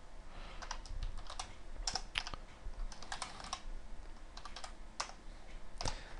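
Fingers tap on a worn computer keyboard in quick irregular runs of clicks with brief gaps, close and clear, and no talk over them.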